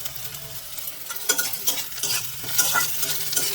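Vegetables for Maggi noodles being stirred in a frying pan, with steady sizzling and scraping strokes from a spatula, close and moderately loud, with no talking.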